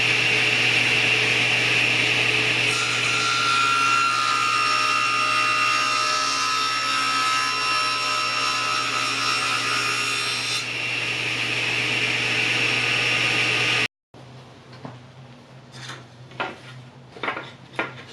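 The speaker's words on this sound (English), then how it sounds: "I now have to make a cut to" Powered saw cutting wood to invert a bevel for a jewelry box, running as a steady loud whine with a deeper motor hum for about fourteen seconds. It stops abruptly, and faint knocks and handling sounds follow.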